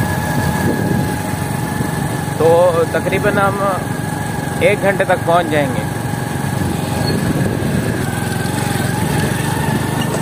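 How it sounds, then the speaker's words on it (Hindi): A motorcycle engine drones steadily while riding toward a sugarcane field in a rural village, with someone talking over it throughout. "तो हम मोटरसाइकिल पर ही हैं, बाइक पर आप देख सकते हैं"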